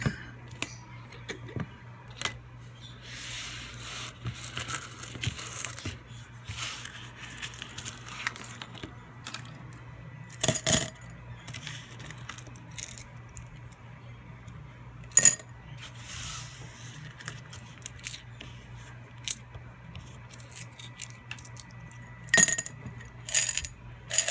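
Ten pennies from a beach spill clink into a metal coin pot, with small scattered metallic jingles and clatters over a steady low hum, some louder clinks standing out.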